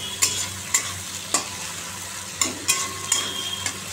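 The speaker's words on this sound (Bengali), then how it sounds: "মাছটা এখন ভাজছি" Fish frying in a pan: a steady close sizzle with sharp clinks and scrapes from a stirring utensil every half second or so, no voices.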